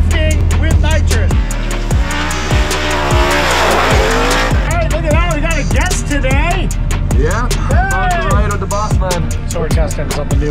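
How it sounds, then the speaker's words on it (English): Formula Drift Mustang drifting on nitrous, its engine loud and revving hard with rising and falling pitch, tires squealing and skidding continuously up close, with some voices faintly beneath. "So now we're going full pool drifting with nitrous."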